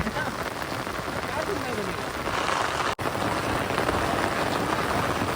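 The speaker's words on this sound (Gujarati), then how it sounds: "તો મિત્રો અત્યારે ધોધમાર વરસાદ ચાલુ છે" Heavy monsoon rain pours down steadily outdoors near a creek, a dense, loud hiss of falling drops that continues throughout, broken only by a brief dropout near the middle.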